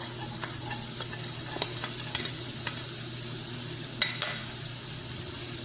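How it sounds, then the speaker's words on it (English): Minced garlic sizzles softly in melted butter in a pan for turmeric fried rice, a steady low frying hiss with a few light scrapes of stirring and no talking. "I will add my minced garlic."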